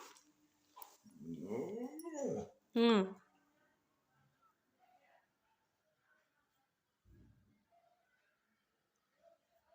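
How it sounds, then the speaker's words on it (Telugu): A dog makes a short run of close growly, whimpering vocal sounds, then a sharp yelp, followed by a long stretch of near silence. "ఏదో డాగ్ వచ్చింది మన ఇంటికి"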